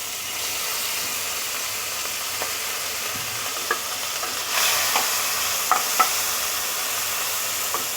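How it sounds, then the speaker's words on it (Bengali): Prawns frying in a pan, a steady close hiss of hot oil with a brief surge of sizzle midway and a few soft scrapes and pops scattered through, no voices. "আমি একটু ভেজে দেখাচ্ছি এরকম করে ভেজে নেব"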